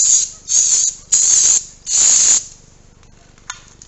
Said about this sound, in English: Spray a little carb cleaner on there now.